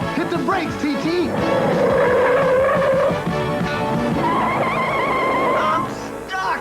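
Cartoon car brakes hard and skids, squealing tires drawn out over several seconds beneath excited voices talking and shouting over the action.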